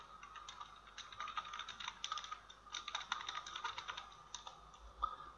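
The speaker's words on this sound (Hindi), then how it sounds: "यहाँ पे मैं लिखता हूँ मोहम्मद दानियाल" Someone types names on a computer keyboard into point-of-sale software, producing a steady run of quiet, fast key clicks with brief pauses, close and alone.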